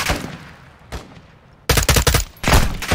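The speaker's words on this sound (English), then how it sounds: "Oh, stop shooting me." Gunfire in Call of Duty: Modern Warfare II, first a few sparse distant shots, then dense loud bursts of rapid automatic fire crackling in quick succession near the end.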